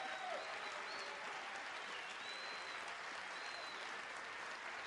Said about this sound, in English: plenty of applause in the hall for you there